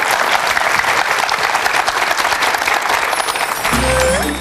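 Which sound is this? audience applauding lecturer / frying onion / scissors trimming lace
audience applauding lecturer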